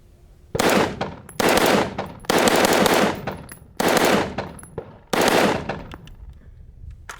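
AK rifle fired in five loud close bursts of rapid automatic shots, each about a second long, separated by short pauses.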